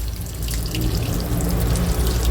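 Taro leaves being washed in water in a village kitchen, with a steady rush of running or splashing water throughout, close and fairly loud, no talking.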